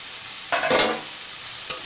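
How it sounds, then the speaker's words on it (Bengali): Fried potatoes stirred into a simmering fish egg curry, a short scrape and sizzle of a spatula in the pan, close, with a faint second stir near the end and quiet background hiss, no talking. "ভালো করে কষিয়ে নেব।"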